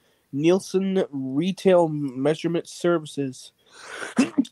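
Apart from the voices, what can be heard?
sneeze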